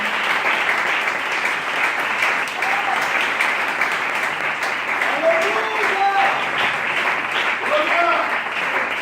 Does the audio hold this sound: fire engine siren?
no